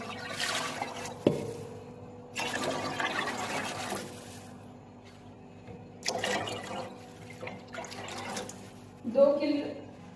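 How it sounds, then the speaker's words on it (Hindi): Water, about 4 litres, pours into a large cooking pot for chicken kabsa with rice in three separate gushing bursts, close and splashy, with someone talking between the pours. "4 लीटर में पानी डाल रही हूँ।"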